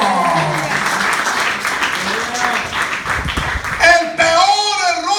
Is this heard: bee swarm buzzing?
no